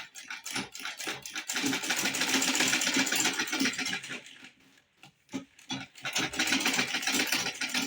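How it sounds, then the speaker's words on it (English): Steady rapid stitching of a sewing machine sewing a leather key holder, loud and close, running almost continuously with one short pause midway. "So just follow the shape and sew it firmly."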